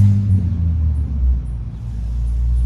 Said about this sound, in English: Wait for that loud car to go by.